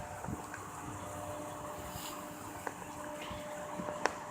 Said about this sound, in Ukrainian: Вітер йде на мене.